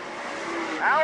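Late model race cars roar around Utica Rome Speedway, a steady loud engine drone with a rising whine near the end as a car passes close, with a race announcer's voice under it.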